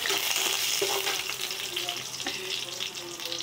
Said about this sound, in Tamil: இப்போது கருவேப்பிலை ஓரளவுக்கு பொரிஞ்சிருக்கோம்.